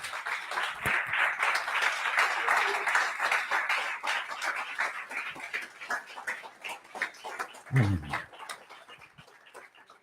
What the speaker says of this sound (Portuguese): Dê um aplauso bem forte a Jesus.